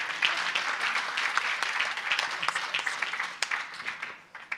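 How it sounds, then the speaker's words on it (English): An audience claps in a steady round of applause at a music members' forum, dense mid-distance clapping that swells and then tapers off near the end. "Could I have a round of applause for JACAP?"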